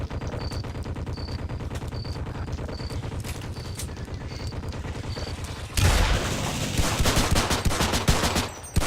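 Rapid machine gun fire in the game They Hunger aimed at an Apache attack helicopter, a long rattling stream of shots, louder and denser toward the end with heavy booming impacts.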